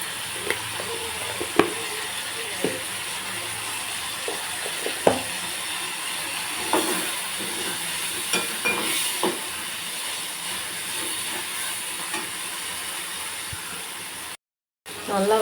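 Onions with black pepper, cumin and fennel seeds sauté in a pan for a Tamil fish and raw mango curry, giving a steady close sizzle with occasional clinks and scrapes and a brief dropout near the end.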